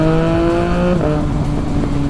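A 2020 Triumph Speed Triple RS motorcycle accelerates hard, its engine note climbing in a loud, close rising whine, then dropping briefly at a gear change before pulling again.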